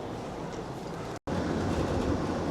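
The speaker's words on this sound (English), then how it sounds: "I'm on the train, I'm stood in the doorway" A train rumbles steadily along the rails, heard from a carriage doorway as a loud, continuous roar that drops out for a moment before resuming.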